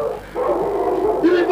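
A dog gives close, loud yips and a whining bark in a domestic scene, a drawn-out tonal whimper rising into sharper yelps near the end.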